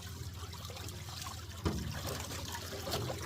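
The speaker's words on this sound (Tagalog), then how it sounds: "hugasan muna natin itong mga galon" Spring water trickles and splashes while gallon containers are rinsed outdoors, a soft continuous pouring with a few louder sloshes, fairly faint and steady.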